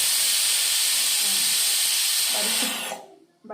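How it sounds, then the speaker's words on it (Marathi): A pressure cooker of dal on a high gas flame vents steam in a loud, steady hiss that lasts nearly three seconds, then cuts off abruptly, leaving faint kitchen sounds. "कुकरला झाकण लावून मोठ्या गॅसवर 3 शिट्ट्या करायच्या"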